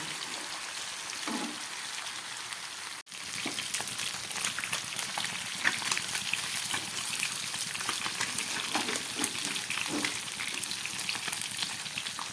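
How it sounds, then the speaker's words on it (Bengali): Pabda fish frying in hot oil in a home kitchen, a steady broadband sizzle that runs throughout with a brief drop near the start, close and moderately loud, no talking. "মাছ ভাজা হয়ে গেছে এবার তুলে নিচ্ছি"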